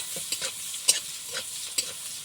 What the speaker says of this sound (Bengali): বেগুনটা কষি নেবো কষি নিয়ে একসঙ্গে করে একটু জল করে